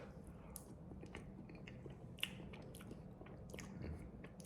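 Someone chewing Little Debbie peanut butter ice cream studded with very crunchy chocolate bits, with soft, close, irregular bites and crunches over a low steady background.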